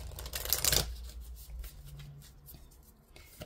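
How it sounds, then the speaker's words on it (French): Oracle cards being shuffled by hand, a dense papery riffle up close in the first second, then quieter card handling and a soft draw with no talk. "on va prendre le message de l'archange Michael. Et ensuite, je vous lirai le résumé qui accompagne la carte"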